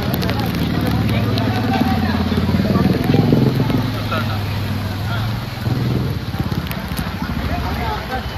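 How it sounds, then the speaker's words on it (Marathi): Heavy monsoon downpour and floodwater in Nalasopara near Achole lake, a dense, steady roar of rain and rushing water throughout, with low vehicle-like rumble and background murmur. "हे बघा, जबरदस्त पाऊस।"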